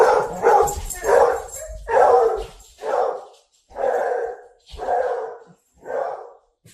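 A beagle barks in a steady series of about eight loud, close yelps and bow-wows, each short burst separated by brief pauses.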